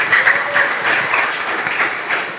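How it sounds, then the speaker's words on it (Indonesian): An audience claps steadily, a dense patter of applause from many hands filling the room at a lively, even pace. "tepuk tangan dulu dong buat temennya"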